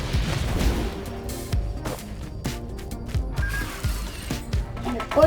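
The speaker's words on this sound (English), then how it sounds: "at least I have my machine gun pistols" Rapid bursts of gunfire from the commando's dual machine gun pistols in the Risk of Rain video game, sharp repeated cracks in uneven clusters over a busy game mix, with brief talk in places.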